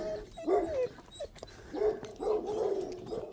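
A dog on a walk lets out several close, short whimpering yips and barks in two bursts, high and whiny, with brief pauses between.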